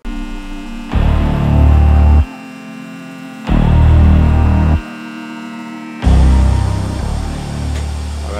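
A machine cuts a billet intake plenum part in three loud bursts of low droning hum with a buzzing tone, separated by short quiet gaps, close and steady within each burst.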